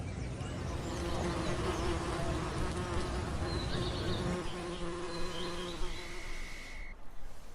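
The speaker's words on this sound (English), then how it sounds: "buzzing near my favorite flowers are our city's very own native bees" Native bees buzz steadily up close near flowers in New York City, a dense droning hum with wavering pitch as individuals drift near and away, continuous until a brief fade at the end.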